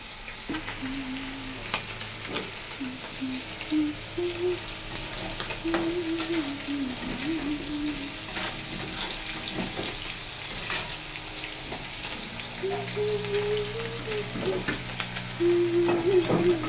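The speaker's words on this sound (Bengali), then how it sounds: "চুনো মাছে খুন্তি দেওয়া" Small fish fry in a pan while a spatula stirs them, giving a steady close sizzle broken by scraping strokes. A voice or tune hums faintly underneath.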